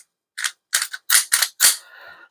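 Crisp metallic clacks and slides ring out in close succession as a Shield Plus pistol is unloaded and cleared: about five distinct racking and locking sounds, loud and near, ending in a faint ringing tail with no talking.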